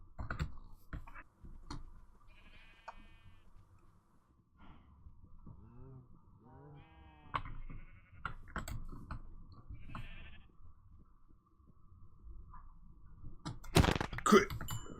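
Sheep in the Bearly Surviving island survival game bleating in short wavering calls scattered across quiet stretches, mixed with game thumps and a loud burst near the end.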